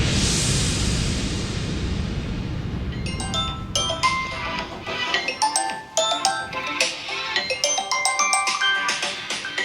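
A melodic phone ringtone plays repeatedly after a few seconds of hissy background noise, its chiming notes clear and fairly close.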